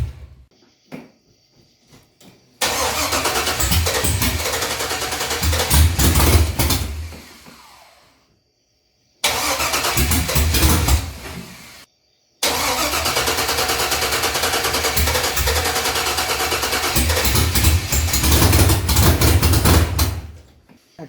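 An LS-swapped Chevy C10 square-body truck, not yet tuned and running on a Holley Terminator, is cranked several times. Loud close attempts catch and rumble into rough running, cut off abruptly between tries, and end with a long sustained idle.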